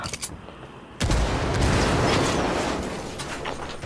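Gunfire in the video game Ghost Recon Wildlands, a pistol among the shots: a few sharp reports, then a loud sustained burst of rapid shots and blasts that slowly tapers off.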